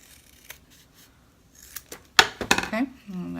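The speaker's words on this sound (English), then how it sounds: "I'm going to cut this other curve with my little scissors." Small scissors cutting a curve in embroidered fabric, a few quiet snips and then a louder cluster of close crisp cuts near the end, with a voice speaking over the last part.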